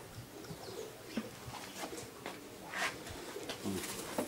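Young pigeons coo repeatedly nearby in a loft, soft throaty calls over light shuffling and scratching, with no talk.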